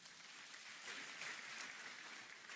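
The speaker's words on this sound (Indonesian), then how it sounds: "Tepuk tangan buat Tuhan Yesus." A church congregation applauds together as a faint, steady wash of clapping that holds evenly throughout, with no talking.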